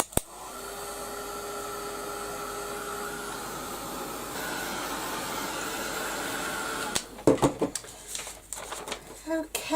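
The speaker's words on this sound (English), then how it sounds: "I'm going to help it along with my heat gun." A heat gun dries wet craft work with a steady, whirring blast of hot air for about seven seconds before switching off, followed by bumps and handling sounds.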